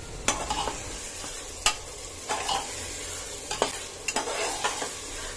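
Roasted chickpeas being stir-fried in tomato gravy, a steady sizzle punctuated by repeated sharp spatula strikes and scrapes against the pan, with no voices.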